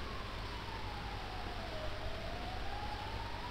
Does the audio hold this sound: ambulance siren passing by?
yes